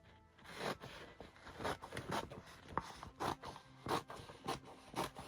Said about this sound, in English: Just going to cut around that edge there.